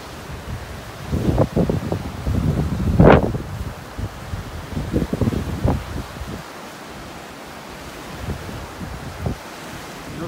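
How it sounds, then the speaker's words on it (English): Wind gusting across a beach in North Naples, Florida, roaring in uneven surges over a steady background of surf, loudest in the early seconds and easing toward the end. "Pretty windy out here."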